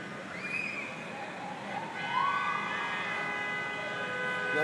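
A police car siren on Broadway in New York, escorting the 2011 Broadway Bomb longboard race, wails in rising and falling sweeps, starting distant and growing louder and steadier toward the end.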